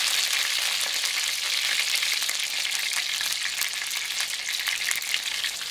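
Pork chops sizzle steadily in a hot frying pan, a dense continuous crackle and spit that stays close and even throughout, with no voices over it.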